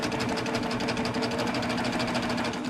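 A chain-stitch sewing machine with a chain looper stitches steadily, its fast, even mechanical rattle and hum running loud and close throughout.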